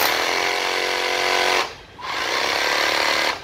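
Cordless hammer drill, a used Japanese import, running in hammer mode with a dense, loud rapid hammering buzz that dips briefly near the middle before resuming steadily, with no talk.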